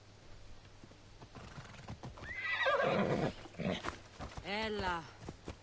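Horse in Assassin's Creed Odyssey gives a loud whinny with a few clip-clopping hooves, followed by another rising neigh, with game music or ambience underneath.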